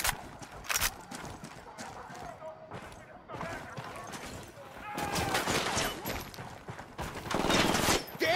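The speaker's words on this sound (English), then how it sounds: "I'm shooting these fuckers." Gunfire in Ghost Recon Wildlands: several sharp shots and bursts, sparse early and then denser and louder toward the end, with game sounds and a voice talking in between.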